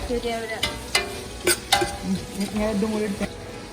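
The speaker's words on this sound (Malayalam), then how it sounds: "സവാളയും ചേർത്തിട്ട് നന്നായിട്ട് വഴറ്റിയെടുക്കുകയാണ് ഇനി ഇതിലേക്ക് നമ്മൾ ഗ്രേറ്റ് ചെയ്ത് വെച്ചിട്ടുള്ള ക്യാരറ്റിൻ്റെ പകുതി ചേർത്ത് കൊടുക്കുക" Onion and grated carrot sauté in a pan with a soft steady sizzle, broken by several sharp stirring scrapes and clatters of a spoon against the pan; no talk.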